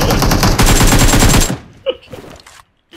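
Loud automatic gunfire from the mobile battle-royale game PUBG Mobile rattles off in a rapid sustained burst, then cuts off abruptly, leaving a few faint scattered game sounds afterward.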